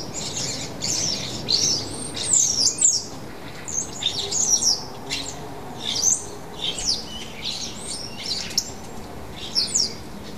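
Starlings calling with a busy mix of chirps, whistles and squawks, irregular bursts scattered over a low background hum, moderately close and without any voices.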